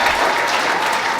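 A church congregation claps together during a French-language worship service honouring the Holy Spirit, producing a dense, steady wash of applause that fills the whole moment without a break.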